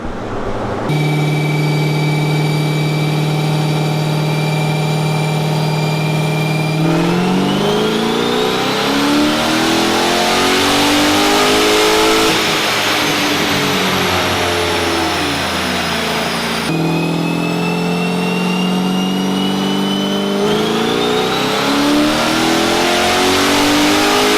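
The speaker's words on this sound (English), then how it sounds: "we got the C7 on the dyno, and it is time to start making pulls" A Chevrolet Corvette C7 engine, fitted with a new cam and torque converters, revs up steadily through the gears on a dyno in long, loud pulls, pitch climbing then dropping at each shift, a sustained roar with no talk.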